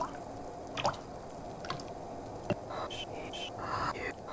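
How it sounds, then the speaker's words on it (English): Soup stirred in the video game Inward Eye gives soft wet squelches and drips, a few sharp liquid clicks and gurgles scattered over a low, quiet background. "Stir the soup."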